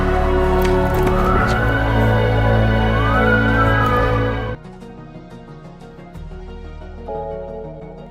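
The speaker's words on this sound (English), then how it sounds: "he hears police sirens approaching Mutter's headquarters" Police sirens wail loudly and approach over several seconds, then cut off abruptly, leaving quieter tonal background sound.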